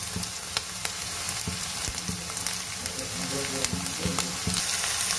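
Green chilies, garlic and coriander sauté in a pan for a Bangladeshi-style bangada fish curry, giving a steady close sizzle with scattered crackles and the occasional scrape of stirring, and no talk.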